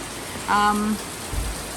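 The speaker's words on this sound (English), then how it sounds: "as you can see and probably hear, it's bucketing down with rain" Constant heavy rain noise in La Fortuna, Costa Rica fills the background while a brief voiced sound rises over it, followed by a low thump.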